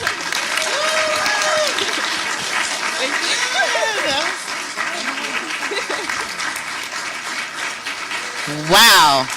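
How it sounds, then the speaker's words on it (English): Audience clapping at a symposium after a spoken performance, steady applause running under overlapping voices and cheering, with a speaker talking loudly over it near the end. "Keep the claps going because that was just so good."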